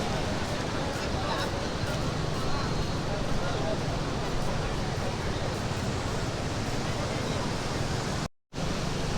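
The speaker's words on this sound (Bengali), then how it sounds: "ওইটা হচ্ছে কলাতলি সি বিচ।" Surf at Kolatoli sea beach in Cox's Bazar roars as a dense, steady wash of breaking waves, loud and close, with a brief dropout near the end.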